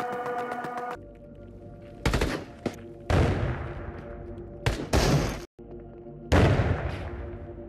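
Shotgun loaded with buckshot firing in the VR shooter Into the Radius, several loud close blasts spaced a second or two apart, each with a sharp crack and a rumbling tail, with quieter handling clicks between shots.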